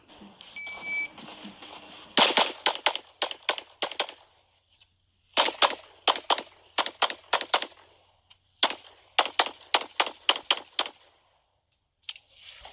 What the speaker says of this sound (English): I get my gun out, I engage these 4 targets to the right